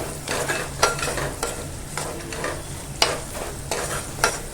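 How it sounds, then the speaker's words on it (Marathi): Finely chopped onion sautéed in a pan for a Malvani raw banana bhaji, a continuous oily sizzle broken by regular scraping strokes of a spoon stirring, close and fairly loud. "आता आपण ना यात बारीक चिरेला कांदा टाकून घेऊया तो पण ना छान नरम होईपर्यंत ना परतून घ्यायचा आहे"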